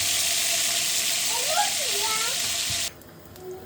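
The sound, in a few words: cumin and garam masala sizzling in hot oil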